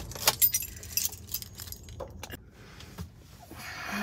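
Keys jangle close by as a car is switched off and its occupant gets out, with a few sharp metallic rattles early on, then quieter shuffling and a door-like thump.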